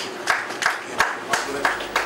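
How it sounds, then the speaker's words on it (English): A church congregation claps together at a gathering of pastors and musicians, six sharp, evenly spaced hand claps at a slow steady beat over low room murmur. "Give the Lord a mighty hand clap."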